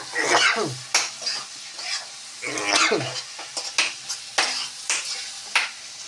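Whole garlic cloves fry among onions and spices in a pan for jackfruit curry, with a close, steady sizzle broken by repeated sharp scrapes and clinks of a spatula stirring.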